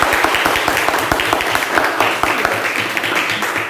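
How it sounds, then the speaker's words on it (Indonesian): A classroom full of children clapping steadily, dense and loud, with sharp individual claps standing out near the front. "Kembali tepuk tangan untuk kita."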